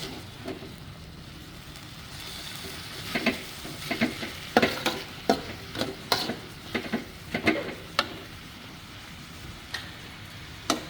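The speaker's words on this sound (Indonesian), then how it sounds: "Ini terus dikacau." A chili, tomato and onion sambal is stirred in a pan, with a soft frying sizzle and repeated sharp scraping knocks of a spatula against the metal, in an irregular close rhythm.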